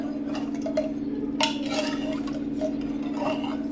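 A spoon scrapes and clinks against a pot while rice with spices, chili and salt is mixed for veg biryani, giving soft irregular taps over a steady low hum; no speech.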